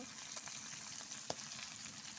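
Green chillies fry in oil after fish, giving a faint, steady sizzle with one brief clack of a utensil. There is no speech.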